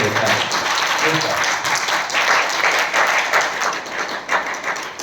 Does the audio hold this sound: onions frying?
no